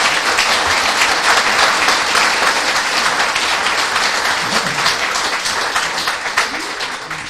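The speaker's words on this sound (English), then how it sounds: "So, a big round of applause again." Sustained audience applause after an amateur drama group's stage production of a John B. Keane play, a dense wash of many hands clapping steadily that tapers slightly toward the end, with no talk over it.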